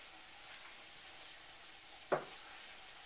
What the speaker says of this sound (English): And then we'll fry up the meat.